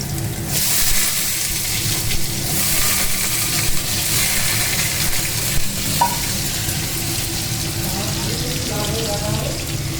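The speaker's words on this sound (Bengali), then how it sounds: "তো এখন আলুটা ভাজা হচ্ছে।" Potatoes sizzle and crackle steadily in hot oil seasoned with five-spice (panch phoron), the oil already used for frying cauliflower; a continuous close frying hiss with occasional stirring, no clear talk.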